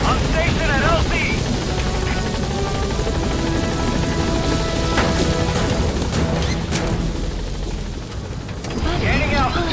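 A helicopter lifts off and departs in Metal Gear Solid V: The Phantom Pain, with a loud, continuous rotor thrum and whine, some clanks and crashes from the game, and a radio voice talking over it.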